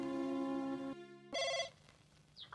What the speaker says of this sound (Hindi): किसका फोन हुआ है?